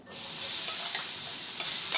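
Crushed green chickpea thecha with cumin hits hot oil in an iron wok and sizzles steadily, a bright close frying hiss with faint stirring scrapes, and no voices.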